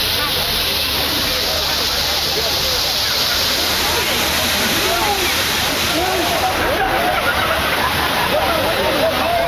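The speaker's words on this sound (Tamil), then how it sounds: "கோயம்புத்தூர் மாவட்டம் பொள்ளாச்சி அருகே உள்ள கவியருவியில் சுற்றுலா பயணிகள் கூட்டம் அலைமோதியது" Kaviaruvi waterfall near Pollachi roars in a steady, loud wash of falling water, with a tourist crowd's voices faintly mixed into the continuous rush.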